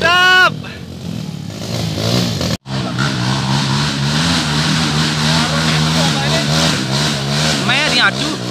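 A motorcycle engine revs hard and steadily while climbing a slippery, muddy uphill trail, with a brief cut-out partway through, and people shout and cheer over the roaring engine.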